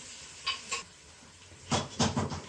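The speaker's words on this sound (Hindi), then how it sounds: "अब हल्की आंच पे इसको फ्राई करेंगे।" Onions frying on low heat in a pan for haleem, with faint sizzling under a few sharp clinks and scrapes of a utensil stirring against the pan, two brief bursts then a cluster near the end.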